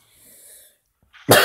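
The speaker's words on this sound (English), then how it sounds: "Sorry, guys, for the coughing." A single loud, harsh cough bursts out at the end after a short stretch of near silence.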